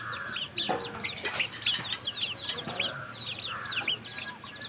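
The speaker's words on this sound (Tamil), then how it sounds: "காலில் ஏறி மேயுது கோழி." A hen forages close by near a village cooking fire, clucking in short repeated bursts amid other chirping birds, with a steady low hum underneath.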